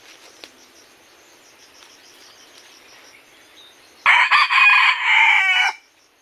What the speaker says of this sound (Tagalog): Ang tawagan dito ay napakaliit na klaseng labuyo to mga kanter.